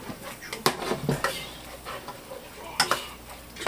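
Shrimp cooking in butter in a pan, with a light sizzle beneath several sharp clicks and scrapes of a utensil moving the shrimp around, close by.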